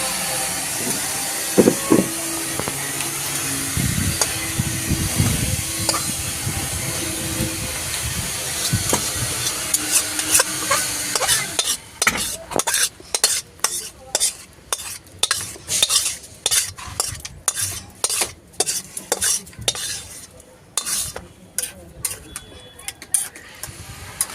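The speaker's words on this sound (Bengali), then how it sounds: "চিকেনটা হয়ে গেছে, আমি এবার নাড়িয়ে নেব" Chicken with garam masala being stirred in a pan: clattering and a low hum at first, then a long run of sharp, rhythmic scraping strokes against the pan, loud and close.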